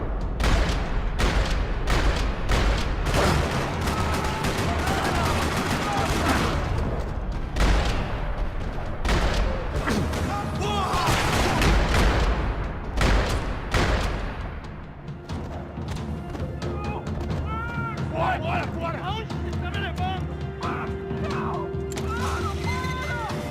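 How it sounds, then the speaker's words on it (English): Gunfire fills a parking lot in the video game Max Payne 3, dense rapid bursts and single shots crack loudly alongside impacts and debris, easing into a quieter stretch with scattered sounds and distant shots. "Another parking lot rattling with gunfire."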